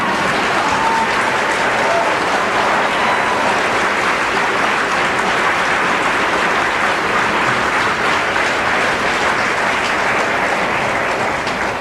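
Audience at a presidential campaign speech applauding, a long loud unbroken wash of clapping from a large crowd with faint cheering underneath.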